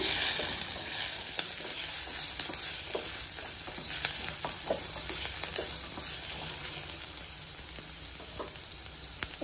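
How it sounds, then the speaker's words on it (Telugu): Sliced onions frying in an oil-filled pan, a steady close sizzle and hiss with occasional soft stirring scrapes and pops, no voices. "ఇప్పుడు ఆనియన్ ఫ్రై అయిపోయినాయి కొంచెం"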